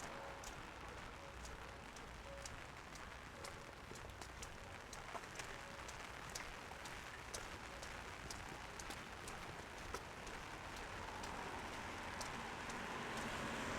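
Steady rain falls on a Toronto east-end street on a fall day, a constant broad hiss with faint scattered drips and ticks throughout, no voices present.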